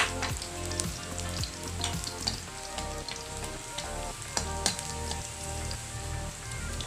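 Food fries steadily in a pan with a dense, crackling sizzle and scattered sharp pops, a close and continuous sound with no talking.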